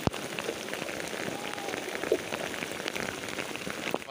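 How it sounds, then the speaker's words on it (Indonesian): Steady rain patters on surfaces at a cliffside fishing spot near a village, a dense, even hiss that fills the whole stretch with no talk over it. "Hujan guys."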